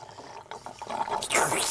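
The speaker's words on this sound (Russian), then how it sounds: "Пеппа и Джордж пьют апельсиновый сок." Cartoon pigs drinking orange juice: liquid pouring and gurgling, growing louder and bubbly toward the end, with faint voices underneath.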